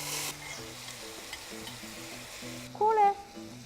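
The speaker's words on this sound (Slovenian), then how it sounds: "Takole malo popečemo tofu" Marinated tofu fries in coconut fat in a small pan with a steady, close sizzle. A wavering tonal whine and other pitched sounds rise over it near the end.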